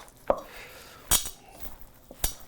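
A utensil clinks against a bowl while a breadcrumb mixture is stirred, three sharp separate knocks spaced through a quiet stretch, fairly close.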